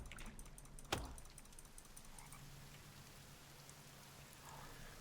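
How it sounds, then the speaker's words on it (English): Steady rain patters continuously at low volume in the video game The Forest, with a single sharp click near the start and faint croaking in the background. "We've got rain."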